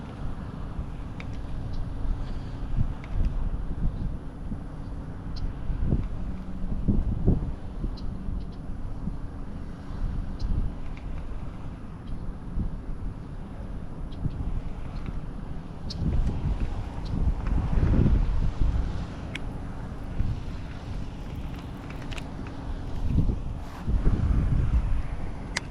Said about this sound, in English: Oh, that wind carried it.